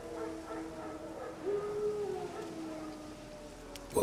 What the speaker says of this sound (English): Wolves? No. Wild dogs.